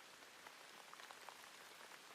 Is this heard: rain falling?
yes